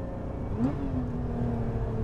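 A Lotus Emira V6 engine with six-speed manual hums steadily with a brief rising rev partway through, close and continuous with no talking.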